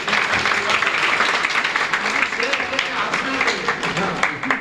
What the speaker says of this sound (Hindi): इस पर तालियां होनी चाहिए